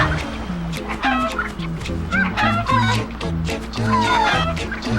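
Chickens in the video game Crash Twinsanity cluck and squawk in quick, repeated bursts, loud and close, with overlapping calls and a steady low hum underneath.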